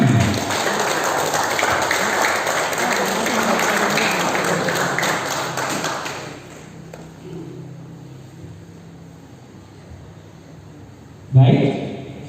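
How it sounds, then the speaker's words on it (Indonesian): A crowd at a village head candidate debate gives lively applause that carries on for several seconds before fading, with a voice talking over it and a short burst of clapping returning near the end. "Kita sambut dengan tepuk tangan yang meriah"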